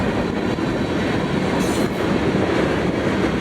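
Freight train MWCNP, led by a rebuilt AC44 locomotive and carrying a firefighting water tank car, rolls past loudly and close in Utah, with a continuous rumble of wagons and a brief wheel squeal.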